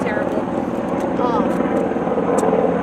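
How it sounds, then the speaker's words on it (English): Helicopter passing overhead during horse groundwork training, a steady rotor drone throughout with a person talking over it. "Sorry, we have a helicopter going overhead."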